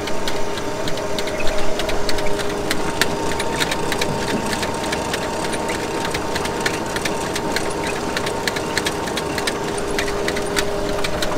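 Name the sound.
potato harvester sorting belt with rotating fingers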